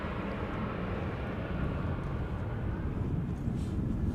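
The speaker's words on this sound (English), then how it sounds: "A321 Neo from JetBlue up next," JetBlue Airbus A321neo arriving at Amsterdam Schiphol from Boston, a steady broadband jet roar that holds level and fairly loud throughout, with no voices over it.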